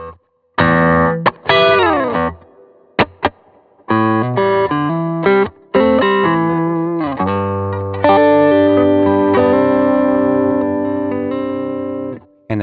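Electric guitar on the neck pickup played through an Ampeg B15n amp plugin, loud clean-to-gritty chords and single notes with slides, separated by brief pauses before a long sustained ringing strum.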